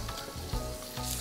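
Onions frying in a pan for a Mongolian beef stir fry, a soft, quiet sizzle with faint stirring taps over a low hum in a brief moment without talk.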